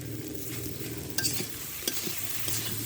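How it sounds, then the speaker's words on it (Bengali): Potatoes frying in a pan with turmeric, salt and dried chili powder, a steady sizzle running throughout while a spoon stirs and scrapes, with a few sharper clinks against the pan. "এবার 2 মিনিটের মতো আমি আলু ভেজে নেব।"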